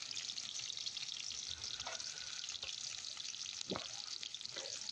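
Onions hit hot oil in a pan for a Bengali dish, giving a steady loud hiss and sizzle with a few soft pops throughout.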